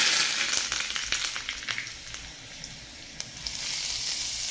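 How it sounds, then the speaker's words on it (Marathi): Mustard seeds and spices tempering in hot oil for a coconut chutney served with idli sambar, giving a loud, steady sizzle and crackle with scattered pops, alone without any talk. "आता मी फोडणी तयार करून घेते"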